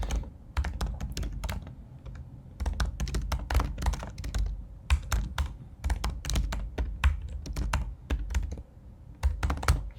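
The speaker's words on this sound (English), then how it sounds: "enter the keywords you want to track. Just simply type" Keys clatter steadily on a computer keyboard as keywords are typed in, a close, continuous run of taps with brief pauses and no voices.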